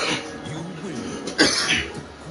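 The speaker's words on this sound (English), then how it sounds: "Oh man, my cough." A single person coughs a few times, fairly close, with a throat-clearing quality over faint background noise during a casual Tekken gaming stream.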